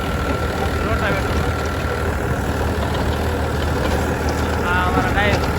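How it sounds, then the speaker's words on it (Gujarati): A tractor pulling a rotavator runs with a loud, continuous engine roar and churning drone close by, with people talking over the machinery. "રોટાવેટર."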